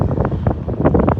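A storm gust front on the east side of Altus, Oklahoma, blows loud, buffeting wind against the microphone in rough roaring surges.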